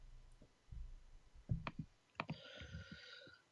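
Computer keyboard typing, a few sparse, quiet clicks and taps spread unevenly over a few seconds with a faint electronic tone in the background.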